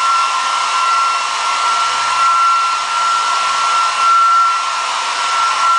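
A hair dryer blows steadily with a constant whirring hiss and a thin high whine, close and loud, with no voices.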